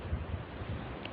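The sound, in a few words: strong wind on a stormy day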